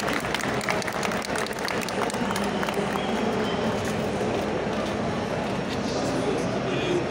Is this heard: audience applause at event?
yes